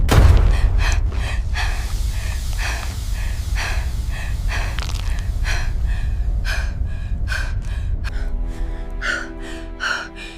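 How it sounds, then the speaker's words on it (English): Loud, ragged gasps and heavy breathing from a person in sharp pain after supernatural poisoning, repeated sharp intakes of breath alone and close up across the whole stretch. "You gasp loudly in pure pain"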